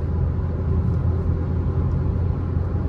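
A Maruti Suzuki Fronx with about 20,000 km cruises on the road at 100 km/h, giving a steady, close cabin rumble of road and engine noise with no voices.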